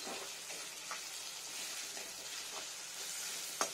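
Curry leaves sizzling in hot oil in a pan, a steady, hissing fry close to the microphone with a few faint stirring clicks and a sharper tap near the end, with no talking.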